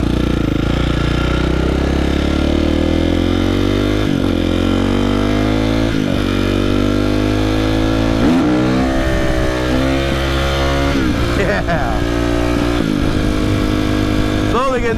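A 5-speed 450 motorcycle engine idles and revs up repeatedly, loud and close, with rising and falling pitch sweeps throughout; a voice talks faintly in the background.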